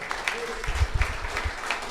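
An audience applauding at a wine-industry conference in Nouvelle-Aquitaine, a short patter of scattered claps in a hall, with speech over it.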